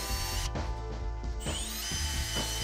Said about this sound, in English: I did have to drill one bolt since the head stripped out on me.